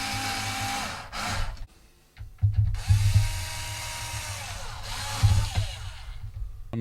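Stainless steel Torx screws being driven with a power driver into an iPad music production workstation, two whirring drive bursts with a short pause between them, close and fairly loud.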